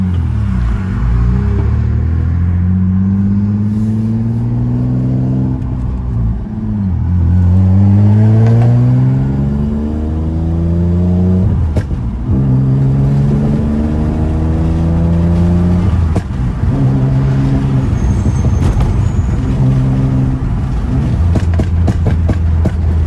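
Nissan Maxima, seventh generation with a manual swap, revving through an ISR aftermarket exhaust, deep aggressive engine tone rising and falling in repeated close, loud revs, with no voices over it.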